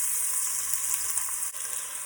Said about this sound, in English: I can hear my pot is telling me, and the sizzle noises I hear, that it is ready for some onions